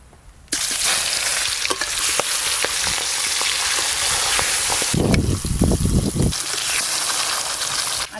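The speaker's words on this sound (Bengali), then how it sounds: "মাছগুলো বেশ ভালো করে কড়া করে ভেজে নেব।" Pangas fish pieces fry in hot mustard oil in a wok, a loud, steady sizzle starting abruptly and filling the whole stretch, with low rumbling bursts of bubbling and spatter midway through.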